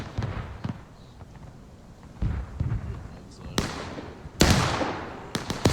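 Artillery fire in the War of Rights Civil War game: distant and nearer cannon reports arrive as sharp cracks and booms, with two louder blasts late on and scattered smaller shots, alongside an ongoing voice.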